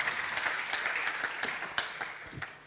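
Conference audience applause after a talk on Playwright component tests at ReactNext 24, a steady patter of many hands clapping at moderate distance, fading toward the end.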